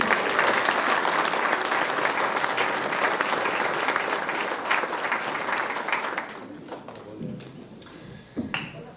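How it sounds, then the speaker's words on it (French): Sustained applause from the audience at a mayor's New Year greetings ceremony in Saubion, loud and dense for about six seconds before thinning into scattered claps and faint voices. "oui, on peut vous applaudir."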